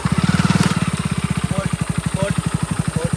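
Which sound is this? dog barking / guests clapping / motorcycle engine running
motorcycle engine running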